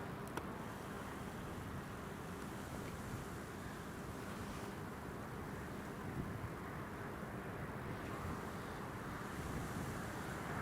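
Strong gusty wind from Storm Isha buffets an open-air spot at Newcastle Airport, a steady loud roar with low rumble and broadband hiss throughout, no voices.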